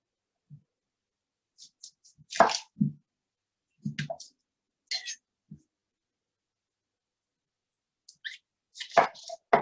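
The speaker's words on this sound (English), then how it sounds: "So from there, we're going to chop up our vegetables." Sweet onion being chopped on a cutting board in a home kitchen, a few sparse knife knocks scattered between quiet pauses, with a person talking softly nearby.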